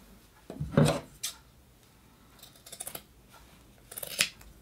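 Scissors snip through a knit sweater, a few sharp crunchy cuts close by, the loudest near the start and end with quieter slicing in between, no talking.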